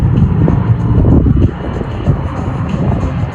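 An aircraft passing at the Avalon airshow in Australia, a loud, broad engine roar that is strongest early and eases slightly, mixed with wind buffeting on the microphone.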